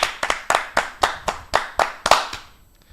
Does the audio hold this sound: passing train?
no